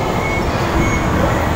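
An MRT train pulls away from a station platform, a loud continuous rumbling roar of rail noise filling the space, steady and close throughout.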